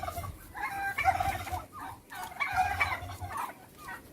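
Turkeys kept in a two-part farm cage in Dahab gobble in two loud, rattling bursts separated by a short pause, close by with no talk.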